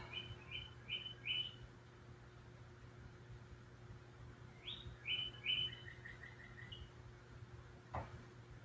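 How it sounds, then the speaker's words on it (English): Birds chirping outdoors in the background, short bursts of high tweeting calls in two clusters, faint and distant over a steady low hum and hiss. "I don't know if you can hear the birds singing in the background."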